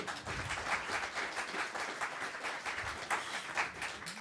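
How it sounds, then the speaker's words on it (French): Audience applause for Steve at a French tech talk on deploying AI models at the edge, a steady patter of clapping from a room of people lasting several seconds with no voices over it. "Je vous prie de bien vouloir applaudir Steve."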